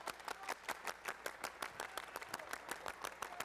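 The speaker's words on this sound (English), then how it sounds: "Everybody clap your hands!" A crowd at a Denver sports event claps hands in steady rhythmic unison, a fast train of sharp claps filling the hall at moderate distance with no talking over it.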